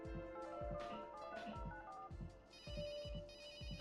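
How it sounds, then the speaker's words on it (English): A telephone ringing tone from the Runaway: A Road Adventure video game, steady repeating electronic rings with a regular pulsing rhythm, clear and alone with no talk. "I'll call Willie and try to get him to enter the analysis laboratory."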